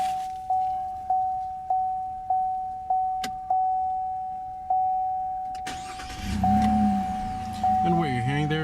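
A 2018 GMC Canyon pickup with the optional 3.6 liter V6: a steady chime repeats for several seconds, then the engine cranks and catches, settling into a rumbling idle near the end.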